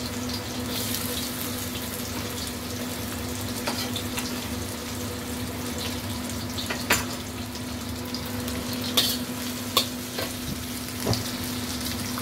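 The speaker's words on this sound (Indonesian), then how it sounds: "Nah, sekarang aku mau tumis bumbu ya." Spice paste sautéing in a pan for a jengkol and tempeh stir-fry, a constant crackling sizzle with a low steady hum, occasional clinks and scrapes of stirring, no voices.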